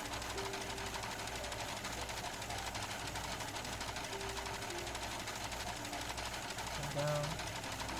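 A sewing machine runs at home, a steady fast mechanical chatter of stitching that continues throughout at low level, with a person briefly speaking over it near the end.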